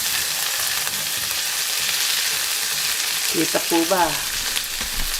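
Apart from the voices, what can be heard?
garlic, celery and onion stir-frying in a pan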